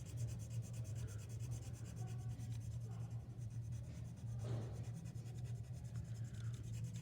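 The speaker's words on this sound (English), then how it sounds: "use as much pressure as you possibly can without breaking the pencil lead or tearing through your worksheet" Steady rubbing scratch of a pencil pressed hard while shading on a paper worksheet, close and continuous over a low background hum.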